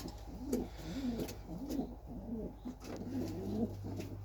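Pigeons coo repeatedly in soft, throaty rolls, one call after another, against a constant low hum.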